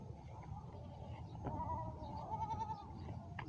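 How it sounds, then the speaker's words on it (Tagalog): Goats bleating faintly in the distance over a low background rumble on a farm, a wavering call rising briefly in the middle. "Mga kambing doon."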